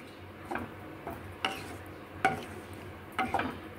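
Stirring spice paste into arhar lentils in a pan over low heat: a handful of soft scraping, clinking strokes come at an unhurried, uneven pace, with a faint sizzle underneath, close and quiet.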